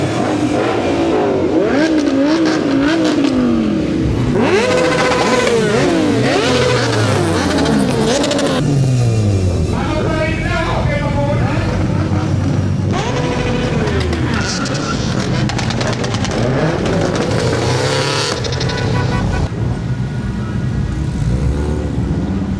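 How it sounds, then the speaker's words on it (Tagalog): Cars and motorcycles lap a race circuit at Tarlac Circuit Hill, engines revving and sweeping past in repeated pass-bys with rising and falling pitch, loud and continuous throughout, layered over one another with faint voices underneath. "Ayun, lahat sila umiikot sa race track."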